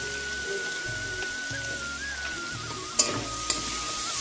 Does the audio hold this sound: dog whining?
no